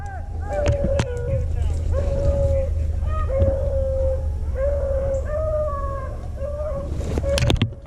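Hunting dogs bay in long, drawn-out howls while chasing a rabbit through the North Carolina woods, several voices rising and falling at moderate distance with steady low rumble beneath and people talking quietly.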